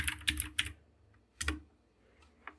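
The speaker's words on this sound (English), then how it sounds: "So we can open this by typing Vapor Xcode." A terminal command is typed on a computer keyboard: a quick burst of three clattering keystrokes, a short pause, then another sharp key press and a final lighter tap, close and clear with no talking.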